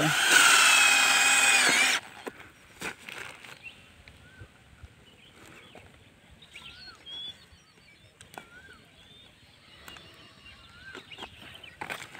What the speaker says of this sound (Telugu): మనం పైప్ డ్రిల్లింగ్ చూడండి